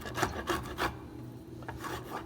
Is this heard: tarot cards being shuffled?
no